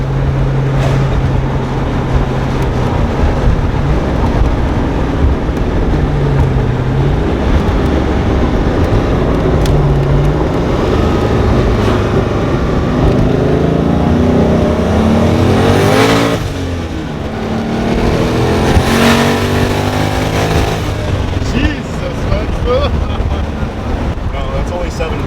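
An LS-swapped twin-turbo Fox Body Mustang accelerates hard with loud, rising engine roar, gear changes and heavy wind rush, recorded from inside the car while people talk over it.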